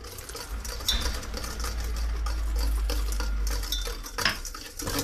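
Sabayon mixture being stirred in a bowl as milk is added little by little, with a steady low whirring and clinking of utensil against the dish, fairly close, with a couple of brighter knocks.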